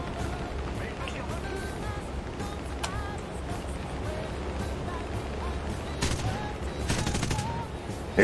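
Aircraft guns firing in a flight combat game, G8N against B-24 bombers, rapid bursts of gunfire over a constant roaring engine drone, louder and denser toward the end.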